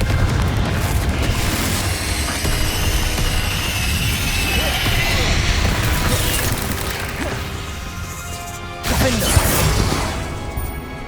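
Confringo and Bombarda spells in Hogwarts Legacy set off loud, rumbling explosions one after another in a dense, continuous barrage, with a heavier blast near the end and a voice shouting over the din.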